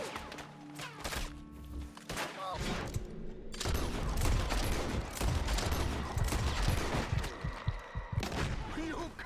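Gunfire from Red Dead Redemption 2, a ragged fusillade of loud, closely spaced shots and booming impacts building into a sustained barrage, with a voice talking underneath at times.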